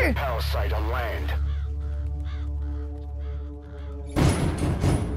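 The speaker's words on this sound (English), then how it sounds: "Damn birds." Crows caw repeatedly in Metal Gear Solid V, a series of harsh, close calls over a low game drone, with a person talking briefly at the start and a louder burst of game noise near the end.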